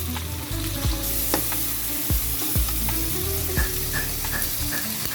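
Garlic and onion sauté in butter for Filipino sopas, sizzling steadily up close, with soft stirring scrapes and a few clinks of the utensil against the pan.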